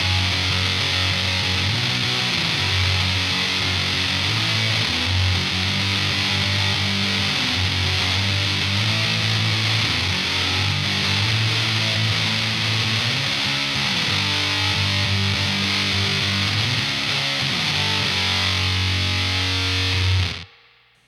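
Electric guitar played through a Beetronics Swarm fuzz pedal with a space echo effect. A loud, sustained, fuzzy riff repeats in a steady rhythm for about twenty seconds and then stops abruptly.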